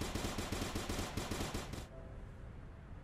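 Rapid automatic gunfire from a weapon in the video game Starbound (Frackin' Universe mod), a dense, loud stream of evenly spaced shots lasting under two seconds before cutting off to quieter game ambience.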